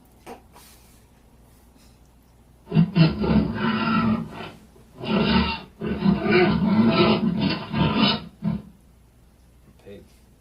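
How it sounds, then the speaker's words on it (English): A pig grunts and snorts in two long, rough, close bursts separated by a brief pause, with faint quiet sounds before and after. "Pig."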